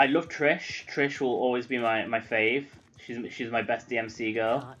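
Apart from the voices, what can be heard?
No everyday noises stand out.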